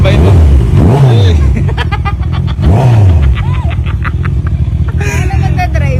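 A newly bought motorcycle revving loudly up close, with a couple of sharp throttle blips rising and falling over a rough idle, while people talk over the engine.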